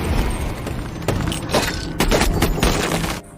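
Gunfire from a bank robbery film scene, set in a police-blockaded parking lot, with several sharp shots cracking in an uneven sequence over a dense, noisy action background.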